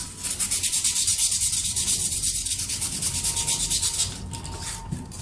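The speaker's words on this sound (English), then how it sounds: "you can always use your sandpaper to kind of sand" Sandpaper rubbed back and forth along the rough edges of a Styrofoam strip for a small rubber-band-powered model plane, giving a steady close scratchy sanding that pulses with each stroke and then eases off near the end.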